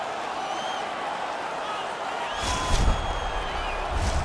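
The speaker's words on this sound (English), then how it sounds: "this crowd still buzzing after what we saw just a few moments ago" Hockey arena crowd in NHL 22 keeps up a steady, distant murmur of noise, swelling slightly with a few louder cheers and claps toward the end.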